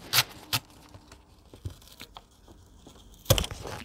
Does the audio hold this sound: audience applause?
no